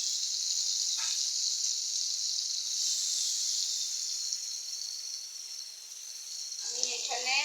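Garlic and ginger paste sizzles in hot oil while cooking hilsa fish with taro stolons, a steady close hiss lasting throughout that swells slightly and ends with a light clatter of stirring.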